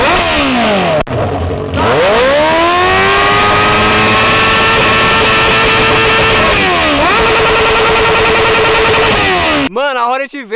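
Two Honda Hornet motorcycles rev together up close, loud rising engine roars that climb, hold a high steady whine, dip once and climb again, with a brief break near the start and talk at the end.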